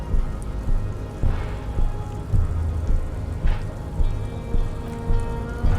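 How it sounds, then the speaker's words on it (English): Steady rain falls in the Disco Elysium video game, a dense, even hiss of drops on surfaces with soft low rumbles that swell and fade at regular intervals, no talk over it. "We'll stand here in the rain."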